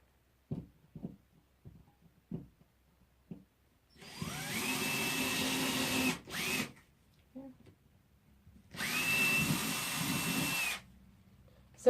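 A power drill bores holes during a shelf installation, running in two sustained bursts of several seconds each with a faint, clipped start in between, preceded by a few short knocks and taps in a quiet room.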